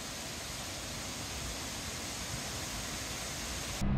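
A roughly 70-metre waterfall in northern Thailand thunders over a rock face, a dense, steady broadband roar filling the whole clip at constant loudness with no voices.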